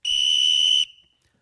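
A referee's whistle blows once, a sharp, steady high tone lasting almost a second and then cutting off, loud and close, with no talk over it.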